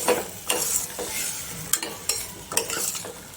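Spice masala and water are stirred in a frying pan with a sizzling hiss, as a spoon scrapes the pan in several distinct strokes.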